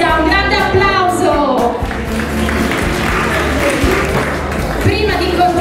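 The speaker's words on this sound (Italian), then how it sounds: "un grande applauso!" Audience applause at the Miss Città Murata beauty pageant, a dense, steady wash of clapping from a crowd that fills the room throughout, with a voice talking over it.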